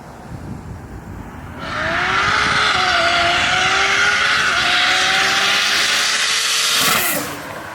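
An 800 hp Lexus SC300 with a big-turbo 2JZ engine on E85 fuel roars close by, a loud sustained blast rising in pitch across several gear pulls before cutting off, with tire squeal mixed in.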